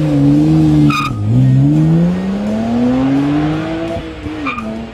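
A BMW sports sedan's engine roars and climbs steadily in pitch as it accelerates hard on a race track, loud and close, with a brief tire squeal near the start.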